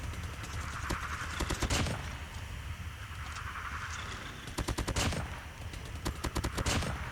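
PDW-57 submachine gun fire in a ranked video game match comes as rapid bursts of shots, fairly close, with quieter game ambience between volleys.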